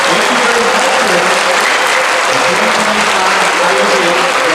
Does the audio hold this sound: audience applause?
yes